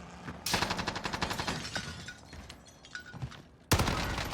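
Long-range rifle fire in a video game: a loud, sharp report opens the clip, followed by a run of rapid clicking and mechanical rattles, then a second heavy shot near the end.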